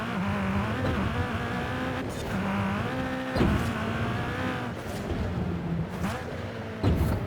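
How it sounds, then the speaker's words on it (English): Rally car in Forza Horizon 5 driving hard, a buzzing, high-revving engine climbing through gears with repeated shift cuts and brief bursts, steady and fairly quiet throughout with no talk. "try this rally car out"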